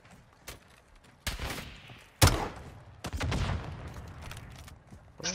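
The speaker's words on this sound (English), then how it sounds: "Did you just shoot a grenade launcher?" Explosive blasts and gunfire in a Call of Duty: Modern Warfare 2 firefight, one sharp loud boom standing out among several heavy bursts, close and separated by brief quieter gaps.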